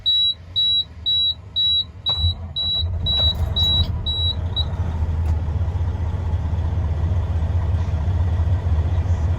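A 2016 Western Star glider kit day cab truck: a run of evenly spaced electronic beeps, then the diesel engine cranks and fires, settling into a steady, loud, rumbling idle.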